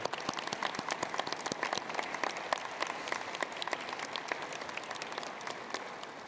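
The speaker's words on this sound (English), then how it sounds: "and applaud your guests and family in appreciation" Graduates at a Carnegie School of Sport graduation ceremony applauding their guests and family, a sustained, fairly distant wash of crowd clapping with dense overlapping claps that holds steady throughout.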